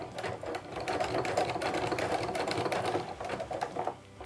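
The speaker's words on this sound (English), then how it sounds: "Now I'm gonna set my sewing machine back to that zigzag stitch and get it as wide as it can" A sewing machine runs a wide zigzag stitch along the edge of a jelly-roll fabric rug, its rapid needle clatter continuous and close, easing off briefly near the end, with no talking.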